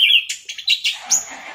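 An orange-headed thrush (anis merah) gives short, high, scratchy calls and chirps in quick bursts, close and clear with no talking.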